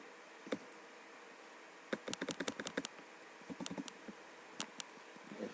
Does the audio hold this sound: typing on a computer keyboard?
yes